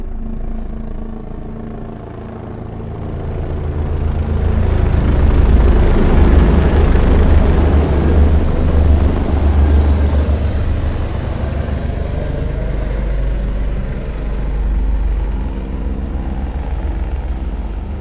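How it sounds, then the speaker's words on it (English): Helicopters approach from behind and pass overhead in a theater surround-sound demonstration, a low rumbling rotor roar that swells to a peak midway and then eases off while staying loud, with no voices. "helicopters will slowly creep up from the back of the theater"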